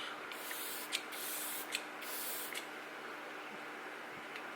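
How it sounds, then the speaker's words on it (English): Three short, quick hisses from a fine facial mist spray bottle sprayed onto skin, close and soft, against quiet background hiss. "I'm just going to spray my skin"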